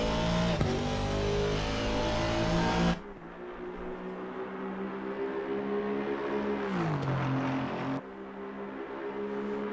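An Aston Martin race car at Paul Ricard in Assetto Corsa Competizione, its engine droning loudly at high revs, a sharp gear change dropping the pitch, then a dip and rise of revs around a corner and another shift.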